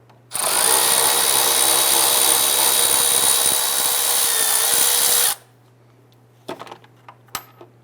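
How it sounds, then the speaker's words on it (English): A power tool with a 10mm socket whirs steadily for about five seconds, loosening a bolt on the airbox of a 2005-2010 Chrysler 300, then stops, leaving a few faint clicks and taps. "we're going to go ahead and loosen and remove this bolt."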